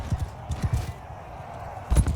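Horse galloping in the video game Mount & Blade II Bannerlord, a few soft irregular hoof thuds spaced apart, ending in a heavier landing thump.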